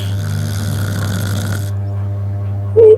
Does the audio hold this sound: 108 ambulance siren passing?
no